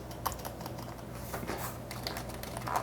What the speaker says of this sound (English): you can hear me typing on here